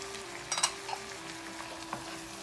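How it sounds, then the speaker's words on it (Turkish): Oyster mushrooms and garlic sauté in a pan, giving a quiet steady sizzle with a few sharp clicks of stirring utensils near the start. "Tekrar şöyle soteleme işlemimize devam ediyoruz"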